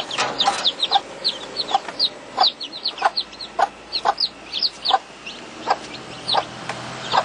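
A caged mother hen with newly hatched chicks clucks in a quick, uneven series of sharp, close calls, loud and clear with no talk over them.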